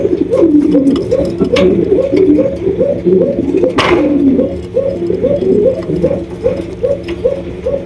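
Racing pigeons, a super Mili racer breed, coo in a steady repeating rhythm, overlapping soft throaty calls filling the loft nearby and fairly loud, with no talking.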